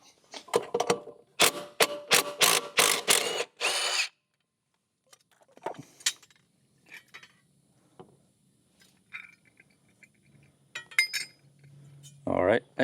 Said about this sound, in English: we're just going to use a 9/16 socket on the impact